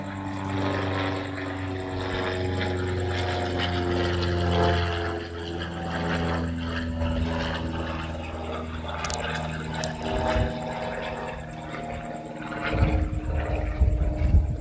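A blue-and-white Cessna airplane flies overhead, its propeller engine droning loudly and steadily with a wavering pitch as it passes, rising roughness near the end, no talking over it.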